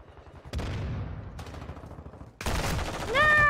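In a first-person shooter game, a decoy grenade fakes gunfire with bursts of rapid popping shots separated by short pauses, close and loud, with a rising electronic tone at the end.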